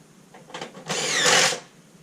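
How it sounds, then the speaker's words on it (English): A power drill drives a screw into a gutter quarter, a short stuttering whir that builds into one loud rising burst of about half a second before cutting off. "I'm going to also put screws in the quarter so that it doesn't dip when I start screwing it off."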